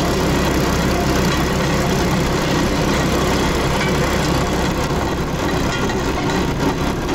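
Motor of a rail draisine running on an abandoned narrow-gauge railway near Moscow in winter, giving a steady, loud, continuous engine drone with broadband rumble and no speech.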